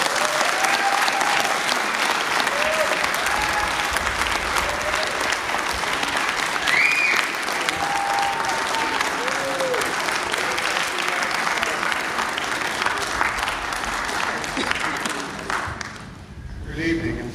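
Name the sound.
audience applause at award ceremony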